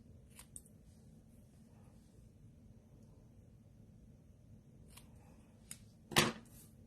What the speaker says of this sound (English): So I'm just going to trim that with my scissors.